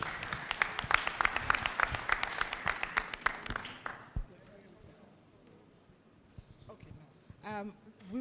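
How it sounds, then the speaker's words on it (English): Attendees at the Africa Cassava Conference applaud themselves with a burst of close, crisp claps that dies away after about four seconds, followed by quieter room sounds and a voice speaking near the end. "Can we give ourselves a round of applause?"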